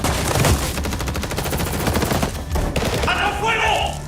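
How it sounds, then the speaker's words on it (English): Gunfire from armed men firing wildly back at a house during an attack, loud and dense: rapid overlapping shots and bursts pour out continuously with no pause, heavy and close, like a sustained fusillade. "But now they began firing wildly in return."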